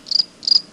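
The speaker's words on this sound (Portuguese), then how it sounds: "dormir ouvindo o grilo" A cricket chirps twice in quick succession, two clear high trills close by against a quiet background.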